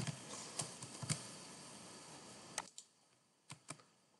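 Someone types a chemical name, toluene, on a computer keyboard into a search field. Quick, close keystrokes run under a steady low background hiss, followed by a few separate clicks and taps.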